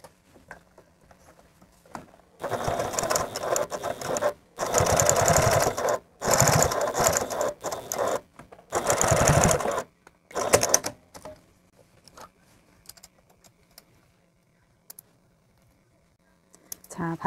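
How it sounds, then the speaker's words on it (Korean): Sewing machine running the finishing seam on a cloth face mask, with several bursts of fast rattling stitching separated by pauses, close and loud, fading to quiet clicks and handling near the end. "이제 마무리 박음질을 해보도록 하겠습니다"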